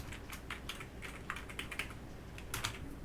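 Keys clatter on a computer keyboard in short irregular bursts of clicks, fairly close and moderately loud, with no voices, while a short reply message is entered into a Tidio chat answer.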